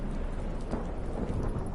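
Thunderstorm with heavy rain in The Witcher 3, aboard a boat at sea: a dense, continuous roar of rainfall with low rumbling thunder underneath, steady and enveloping with no speech.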